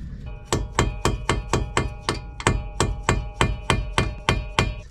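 A hammer strikes a sharp metal chisel on metal during a car clutch and rear main oil seal replacement, in a steady, rapid series of about fourteen sharp, ringing blows, close and loud with no talking.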